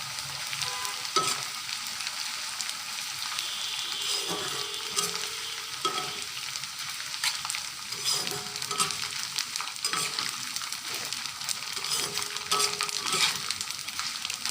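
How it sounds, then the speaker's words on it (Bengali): Rice papad frying in hot oil, a steady dense sizzle running throughout with occasional scrapes and stirs of a utensil in the pan. "এই তো হয়ে গেল আমার ভাতের পাঁপড় ভাজা।"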